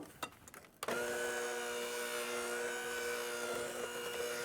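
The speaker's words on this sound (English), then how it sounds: "And start your mixer on low." A couple of clicks and knocks, then an electric stand mixer starts on low and hums steadily as flour is worked into cake batter, a close, even motor whine holding to the end.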